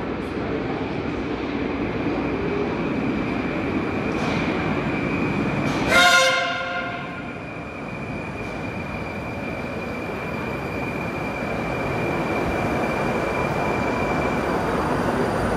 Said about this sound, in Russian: Поездка на поезде Москва-2019 по большой кольцевой линии от станции Кленовый бульвар.